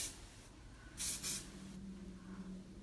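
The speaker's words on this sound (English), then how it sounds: "I use Freeze Baby from Biomega. And I just kind of spray it from far away." A short burst of hairspray hisses twice in quick succession from a distance over a faint steady hum, then fades back to quiet.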